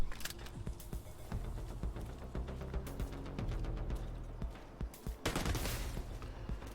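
Bursts of gunfire ring out in the video game The Division 2, rapid sharp shots in uneven volleys with brief pauses, close and loud throughout.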